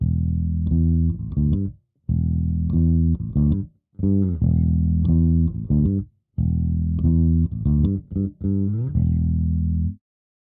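Bass guitar played through a modelled SVT bass head into a 4x10 cab with tweeter, mic'd with an M88, with warm, full notes in four phrases separated by brief gaps, alone.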